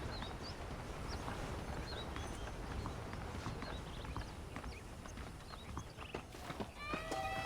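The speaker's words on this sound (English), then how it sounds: "The horses are saddled up over here." Horse hooves clip-clop steadily at a walking pace in the video game Red Dead Redemption, with a horse whinnying near the end over a busy background.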